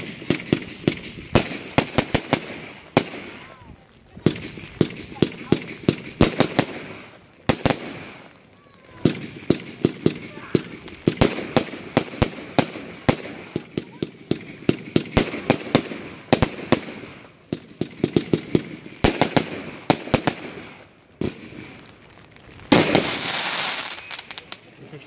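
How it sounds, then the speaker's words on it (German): An Out of Limits firework battery with 36 shots fires rapid salvos of brilliant bouquets in loud, dense bursts of bangs and crackles over about twenty-five seconds, with brief pauses between volleys. "Out of Limits. 36 Schuss, 30 Sekunden Brenndauer zu 28 Euro. Rasanter Salvenaufstieg mit Brillantbouquets."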